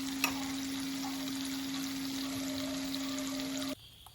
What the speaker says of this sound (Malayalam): നന്നായിട്ട് ചൂടായ എണ്ണയിലേക്ക് ഓരോന്നോരോന്നായിട്ട് നമുക്ക് ഇട്ട് കൊടുക്കാം